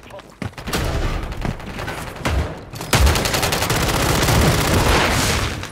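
A heavy gun fires in a shooter video game, with dense bursts of automatic fire and booming impacts coming in quick succession. Loud and close, the shots build into a sustained volley toward the end.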